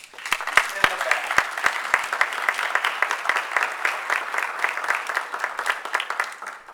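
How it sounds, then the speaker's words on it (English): Audience applause at a lecture by Ambassador Haim Waxman, a steady wash of many hands clapping in a room that holds for the full stretch, with a few sharper individual claps standing out near the start. "Good applause, Shlomi."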